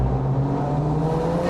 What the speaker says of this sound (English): nothing beats the sound of the angry SR20 on full noise